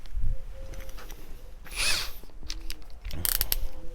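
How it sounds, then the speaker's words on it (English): A Parkside Performance 20V brushless cordless drill (PABSP 20-Li C2) drilling holes, with short bursts of whirring motor and bit grinding into material, interrupted by clicks and handling noise, fairly close. "Try to drill some holes additionally so we can test it."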